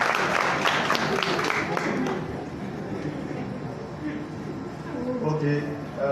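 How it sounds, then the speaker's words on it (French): Applause from a conference audience at a Mali gathering, a steady wash of clapping over the first couple of seconds that fades gradually while a speaker keeps talking over it. "Applaudissez pour eux également,"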